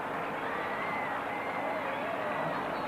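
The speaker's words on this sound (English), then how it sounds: "that's given this huge crowd here something to cheer about" A huge stadium crowd at a cricket match roars and cheers after a boundary for four, a dense, steady wall of distant voices, while a commentator speaks over it.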